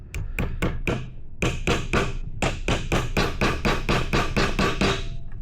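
A hammer drives nails into a wooden beehive box, with about twenty sharp, loud strikes in quick bursts and short pauses, close by and without speech.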